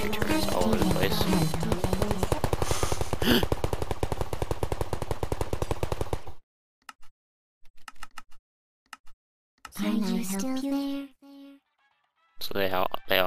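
A Portal-style sentry turret in a Minecraft portal gun mod fires a long, fast automatic burst of shots, then falls quiet, followed by a few sparse clicks and short synthetic voice lines.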